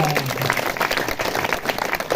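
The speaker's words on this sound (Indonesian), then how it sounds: "tepuk tangan dulu dong" Audience at a live Balinese comedy show clapping in a brisk, close burst, dense and lively, with a brief voice tone at the very start.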